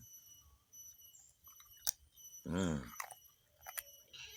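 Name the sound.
chewing crunchy soybean and peanut rempeyek crackers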